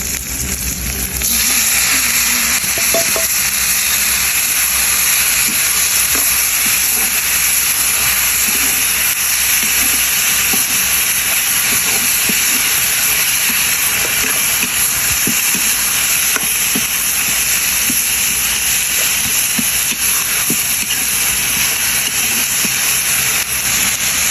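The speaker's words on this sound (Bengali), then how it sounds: "তেল হালকা হলে তখন আমি শাকটা দিয়ে দিলাম" Leafy greens hit hot oil in a pan and sizzle loudly and steadily, a continuous hiss with small crackles and occasional stirring scrapes.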